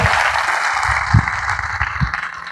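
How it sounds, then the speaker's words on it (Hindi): Audience applause in a seminar hall, a steady wash of many hands clapping at moderate volume with a few louder thumps underneath, continuing for the whole stretch. "इनके लिए जोरदार तालियां होनी चाहिए एक बार।"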